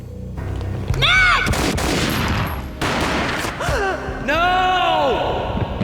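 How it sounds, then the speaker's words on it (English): Gunfire booms in a graphic-novel cutscene from the 2001 PC game Max Payne, loud and close, mixed with dramatic cries and rising tonal effects in the game soundtrack. "A gunshot boomed and she fell down in slow motion."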